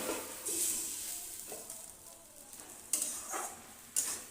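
Ridge gourd with salt cooking in a covered pan gives a soft, even sizzle with a few faint clinks of the lid or utensil, quiet and steady without any talking.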